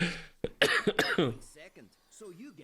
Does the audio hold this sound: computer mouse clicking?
no